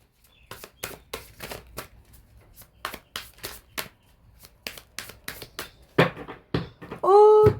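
Tarot cards being shuffled and cut by hand, a series of crisp riffling bursts and soft taps in uneven rhythm, close and clear, ending in a longer flutter of cards.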